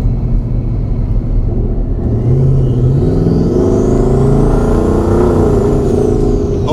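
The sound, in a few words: Ford F150 twin turbo engine accelerating, exhaust cutout open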